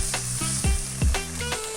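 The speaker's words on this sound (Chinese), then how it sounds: "要煎上色呢，这种一定是要用平底锅比较好煎呐" Tofu pan-fries over high heat in a flat frying pan, a steady close sizzle broken by a few low thuds and clatters as pieces shift, with no talking.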